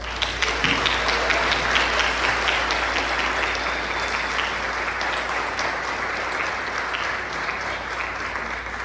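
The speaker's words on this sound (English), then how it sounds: "So give yourselves a big round of applause." An audience at a school scholar-of-the-year awards ceremony applauds for the honored scholars, with dense, sustained clapping that fills the room and stays loud before tapering slightly near the end.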